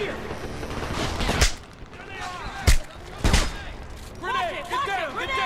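Bursts of gunfire from the video game Homefront, three sharp loud shots spaced a second or so apart over a busy combat background, with shouted voices underneath.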